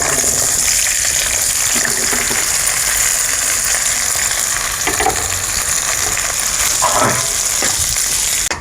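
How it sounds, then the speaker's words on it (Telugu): Boiled cauliflower pieces fry in oil in a kadai, a loud, close, continuous sizzle broken by a few scraping stirs near the end. "ఉడకట్టుకున్న ఈ ముక్కల్ని ఆయిల్లో వేసి పచ్చివాసన పోయేదాకా ఒక 5 నిమిషాల సేపు వేపుకుందాం."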